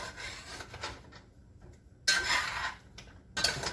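A spoon stirs heavy cream and melting butter in a pot, scraping and rubbing against the sides and bottom in uneven strokes with short pauses, close and fairly quiet.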